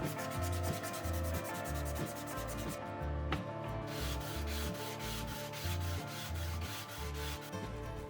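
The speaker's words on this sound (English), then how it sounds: "now we'll pull out the 220 grit and just smooth it out a little more" Steady back-and-forth rasping of 220-grit sandpaper on the wood of a Disston No. 1 butcher saw, repeated rhythmic strokes, close and continuous with no talking.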